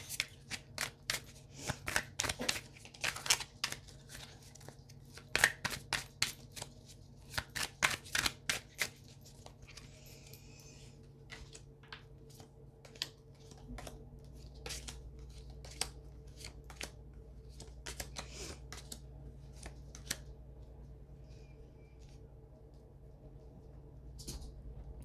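A Sacred Rebels Oracle deck being shuffled by hand, rapid crisp riffling card bursts in close, quiet bursts, giving way to softer sporadic card handling.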